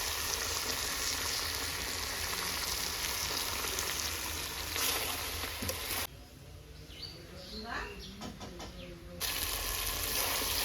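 Meat being slow-fried kosha-style in oil in a pan, a steady close sizzle running throughout with a brief dip in the middle, faint bird chirps in the background.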